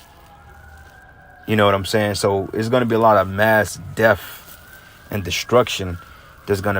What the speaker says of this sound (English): That's the ambulance right now